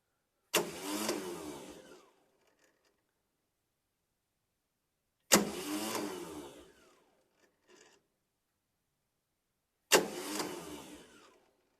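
A Yanmar 1700 tractor engine is cranked over by its starter three times, each burst about one to one and a half seconds of loud grinding churn that stops abruptly, separated by long silent gaps, without catching.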